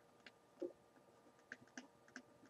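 A command typed on a computer keyboard, a handful of faint, sparse key clicks spaced irregularly over a quiet room background, with no voice present.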